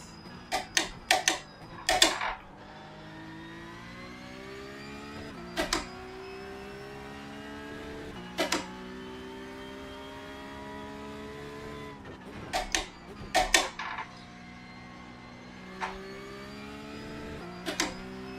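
A V8 Supercar engine drives a lap of the Adelaide street circuit in iRacing, its harmonic drone rising and falling through gear changes, broken by sharp ticking clicks in clustered bursts.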